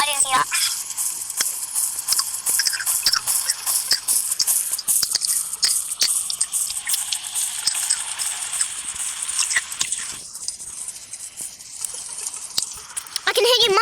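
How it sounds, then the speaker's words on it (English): Wet, close-up munching and chewing of food, crisp irregular bites and smacking sounds in quick succession, loud and near to the mic throughout. "I can hear you munching."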